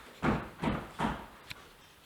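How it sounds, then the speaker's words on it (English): A staged knocking-at-the-door sound effect in a Shakespeare murder mystery play: three loud, evenly spaced heavy thumps followed by a lighter, shorter knock. "Whence is that knocking?"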